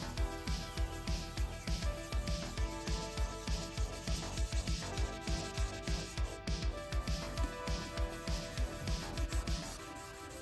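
Rhythmic back-and-forth rubbing of wet sandpaper on a plastic car headlight lens, steady strokes about twice a second, close and continuous.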